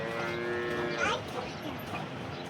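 A local Banaskantha cow, among freshly calved dairy cows, lets out a single long, loud, near moo that swells and then breaks off, followed by a quieter farmyard background.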